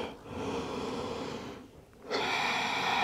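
During a vinyasa flow yoga session, a person breathes audibly through the nose in long, steady, close-up breaths. A brief quieter pause comes before the next strong breath.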